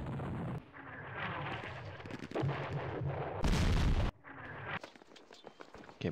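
Artillery barrages in a Middle East wargame, with heavy booms and rumbling blasts layered over one another, one very loud broadband explosion near the middle, and sharper scattered crackling shots afterwards.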